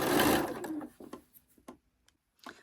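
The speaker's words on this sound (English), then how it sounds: "Stitch a little and work it." A sewing machine stitches a Christmas tree skirt: a loud, close burst of running stitches, then several short separate stitching spurts with quiet gaps between them.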